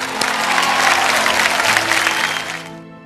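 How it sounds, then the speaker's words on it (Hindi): A studio audience on a televised Indian singing show bursts into loud, close applause, a thick wall of clapping that cuts off abruptly after about three seconds. "जोरदार तालियां हो जाए"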